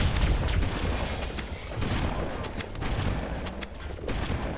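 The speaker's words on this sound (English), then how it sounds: "The assault rifle's really good at killing the small ones." Assault rifle gunfire and combat noise in the Halo: CE Anniversary video game, rapid bursts and booms layered densely over a rumbling battle din, loud and continuous.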